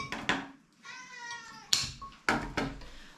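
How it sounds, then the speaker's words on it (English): A house cat meows several times indoors, close and clear: a drawn-out cry followed by short calls and a few soft knocks. "We have a kitty cat"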